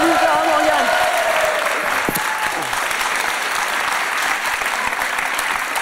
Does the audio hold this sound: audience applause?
yes